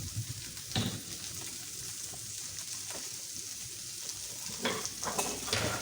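Noodles and cabbage fry in a hot pan with a steady sizzle, broken by a few sharp scraping stirs and spoon clinks, close and fairly loud, with no voices.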